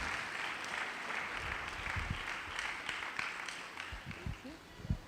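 Seminar audience claps to welcome the pastors and reverend onto the stage, a moderate, steady patter of applause with a few low thumps and handling bumps scattered through it.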